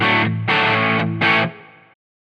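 Electric guitar played through a Line 6 Helix modelling a Soldano SLO-100 amp, bass pulled back on the tone stack, with crunchy distortion: three strummed chords, the last ringing out before stopping, alone and close.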